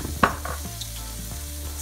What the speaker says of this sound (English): So while that is sizzling nicely